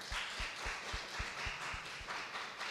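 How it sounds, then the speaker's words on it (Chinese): A church congregation at a Sunday worship service claps in welcome, an even run of about nine steady, moderately loud claps with a faint murmur of room sound. "我们可以先起立，我们拍手欢迎一下。"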